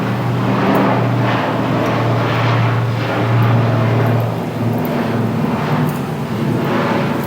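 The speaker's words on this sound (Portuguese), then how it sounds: "Deixa eu esperar o helicóptero passar." A helicopter on a flight route toward offshore platforms passes overhead outdoors, a loud sustained engine and rotor drone with a steady low hum that swells and fades slightly as it goes by, no talking.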